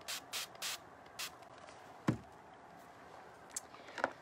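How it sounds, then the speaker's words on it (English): Water sprayed from a bottle onto painted pallet wood, five quick hissing bursts in a row up close, followed by a few scattered taps and light knocks. "Actually, I'm going to spray here first before this one."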